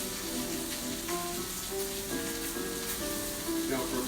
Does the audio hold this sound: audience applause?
no